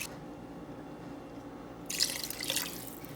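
Water poured from a cup into a pot of chicken noodle soup, a soft splashing pour starting partway through and running in two bursts over quiet kitchen background.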